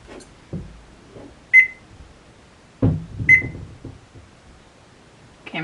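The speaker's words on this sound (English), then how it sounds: "my timer's doing funny things" A kitchen timer beeps twice, two short sharp electronic tones a couple of seconds apart, with quiet handling noises around them and nobody speaking.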